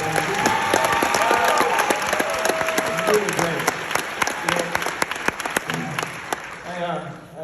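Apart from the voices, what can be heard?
audience applause at university ceremony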